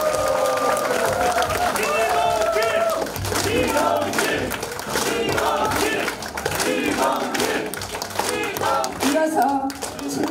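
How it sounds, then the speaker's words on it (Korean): A crowd at a Korean county-governor candidate's campaign office opening claps and cheers loudly for the candidate and his wife, with shouting voices and dense, continuous applause close by. "이동진 군수 후보와 부인 성경선님에게 다시 한번 큰 박수 부탁드립니다."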